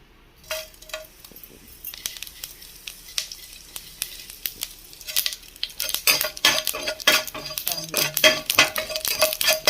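Whole spices such as cinnamon and cloves being stirred and deep-roasted in a pan for paneer butter masala, with a soft sizzle under scraping strokes of a metal spoon that grow busier and louder.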